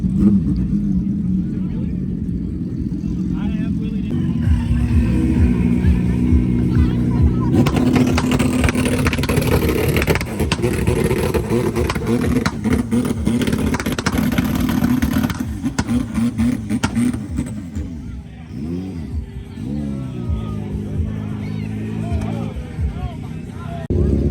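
Motorcycle engines, including sport bikes such as a turbo Hayabusa, rumble and rev repeatedly nearby amid crowd chatter at a bike night meet, with roaring throttle bursts rising over the busy outdoor gathering.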